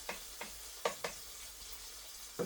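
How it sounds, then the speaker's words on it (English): Bacon sizzles faintly in a pan, a soft hiss broken by several crisp scraping clicks of stirring, spaced unevenly and heard close up. "let me stir our bacon right quick"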